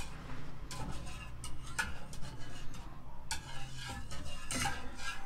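Milk being stirred in a pot for homemade mozzarella, with steady scraping and clinking of a utensil against the pot sides and occasional sharper taps, close and continuous throughout.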